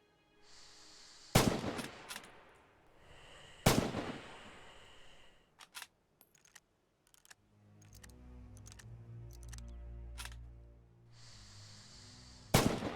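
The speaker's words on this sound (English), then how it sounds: "Open fire at the targets again." Rifle shots fired at targets on a range in Red Orchestra 2: Heroes of Stalingrad: sharp, loud single cracks spaced a few seconds apart, with faint clicks and a low rumble in between.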